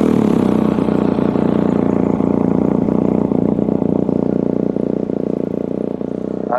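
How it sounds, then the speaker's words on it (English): A motorcycle engine starts and runs at a steady idle, a continuous low rumble close by with a slight waver, no voices. "So let's turn the engine on."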